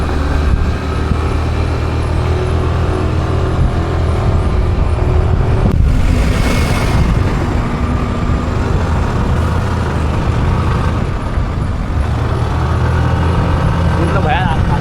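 Car climbing the winding Kasara ghat at night, a steady engine and road rumble heard from inside the cabin, continuous and moderately loud throughout.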